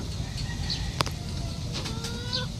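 Brooding hens clucking and murmuring close by, with a sharp cackle partway through over a low, steady background rumble.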